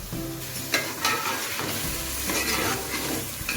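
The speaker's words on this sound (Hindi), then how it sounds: "ऐसे भूनना है इनमें, बोटियों को टूटना नहीं चाहिए" Chicken pieces for pulao sauté in a pan with a steady sizzle, and a utensil scrapes as they are stirred. The sound is close and continuous, with no talk.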